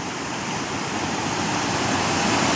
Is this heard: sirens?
no